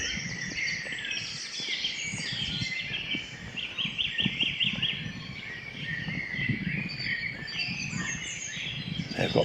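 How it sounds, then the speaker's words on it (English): A blackbird sings outdoors in varied fluting phrases, moderately near, over steady background birdsong and insect chirping with a low ambient rumble. "I've got a blackbird just around this corner."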